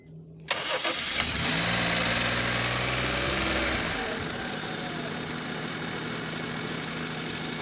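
A 2001 Honda Civic LX engine with its radiator fans disconnected cranks briefly, catches and settles into a steady, close, even-running idle that holds to the end.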